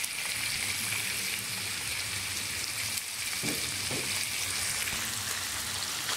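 Sausage and ham fry in a discada, a Sonoran-style plow-disc pan, as a loud, steady sizzling hiss, close and continuous, with a couple of brief scraping stirs midway and no voices.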